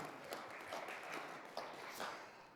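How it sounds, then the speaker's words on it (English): Audience applause after a panel discussion on the Vail/Eagle River Valley, a faint, steady wash of clapping with a few sharper claps standing out, heard from a distance in a hall. "Yeah, we can clap for the VVP."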